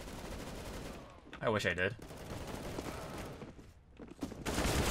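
Gunfire in Counter-Strike: Global Offensive arms race mode, rapid bursty shots running throughout with a player talking over the action.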